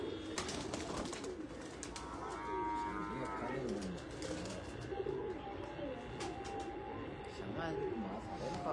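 Flying pigeons kept for high-flying competitions in Faisalabad coo near a rooftop loft, mixed with other bird sounds, with voices talking in the background.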